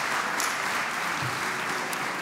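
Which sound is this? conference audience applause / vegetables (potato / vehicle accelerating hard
conference audience applause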